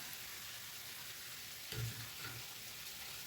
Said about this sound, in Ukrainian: Смажу цибулю до золотистого кольору.